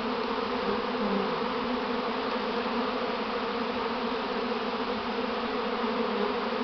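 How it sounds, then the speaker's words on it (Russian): A dense, continuous buzz of a honeybee swarm, steady and close, with no voices or other sounds. "Вот так выглядит роение."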